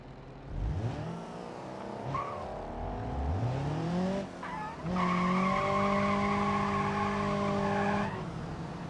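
Car wheels spinning in BeamNG, with the engine revving up and tires squealing in long rising and sustained whines, loud and close, with no talk.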